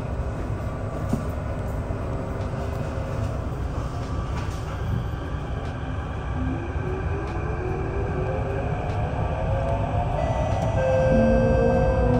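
Steady rumble and rail noise from near the front of a moving metro train, with rising whine of motors as it accelerates, continuous throughout.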